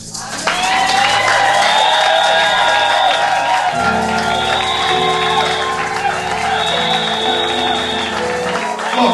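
A church congregation bursts into loud applause, cheering and whoops that swell and hold, with voices shouting amid the clapping in a large room.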